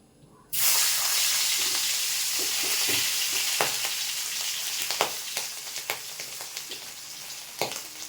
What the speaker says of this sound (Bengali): আমি মাছটা এক একটা করে ভেজে নিই।